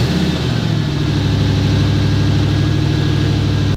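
A 2004 Lexus SC 430's V8 engine idles steadily under the bonnet, a deep, even rumble held close and loud throughout with no talking.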